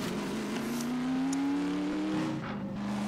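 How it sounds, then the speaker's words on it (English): A car engine in Half-Life 2: Episode 2 hums steadily and fairly loud, its pitch edging upward then settling over a few seconds. "The sound of this car."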